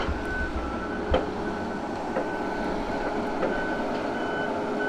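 Steady high reversing beeps ring out at regular intervals from a backing logging truck at a muddy logging site, over a constant heavy engine drone.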